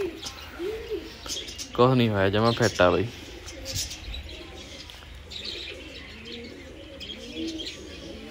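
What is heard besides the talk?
female pigeon cooing at home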